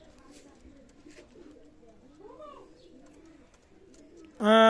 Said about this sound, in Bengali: বাটারা কবুতর রানিং পেয়ার ডিমে আছে